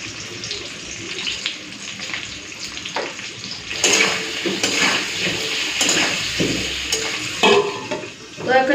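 Potatoes frying in a pan with a little salt and turmeric, a steady close sizzle broken by scraping stirring and pan clatter, with no voices.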